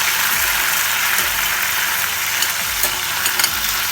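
Soy sauce and vinegar hit a hot pan for garlic French beans, setting off a loud, steady hissing sizzle with low rumbling sweeps and occasional crackles underneath.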